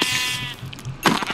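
A Minecraft sheep bleats a few times, a wavering, nasal baa that stays near and fairly loud. A short sharp burst follows at the end, and nobody speaks.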